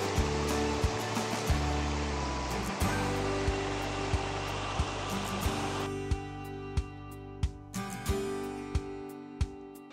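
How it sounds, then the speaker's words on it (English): Waterfall cascade along the Angel Falls Trail in Rabun County, Georgia, a steady loud rushing roar of falling water, heard close up with scattered sharp clicks over it. "we've got this cascade playing musical notes in my ear"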